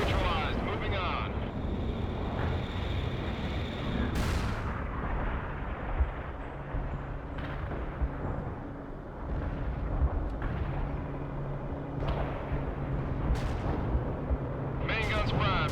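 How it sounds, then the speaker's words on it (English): Tank main guns firing shells in the strategy game World in Conflict, several heavy booming blasts spaced through a rumbling battle soundscape, with voices talking over the combat. "Main guns primed and shells are in."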